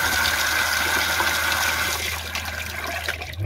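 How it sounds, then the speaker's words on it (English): Water gushes steadily through a Shurflo pump after a pressure switch repair, a loud continuous rush with a faint running tone beneath, easing slightly toward the end. "now we have water coming through there, so that's perfect."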